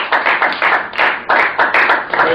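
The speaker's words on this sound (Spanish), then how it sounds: "Puedo darle un fuerte aplauso a Jesús, por favor" Brief congregational clapping at a church sermon, with a few bursts of hands coming in uneven pulses, fairly loud and close, with no talking over it.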